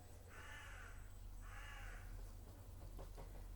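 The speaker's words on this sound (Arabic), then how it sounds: "سامعين انتوا الطير ده؟ في ناس بتتشائم منه" A crow caws twice in drawn-out harsh calls, faint and distant over a low steady hum, followed by a few quicker clipped notes.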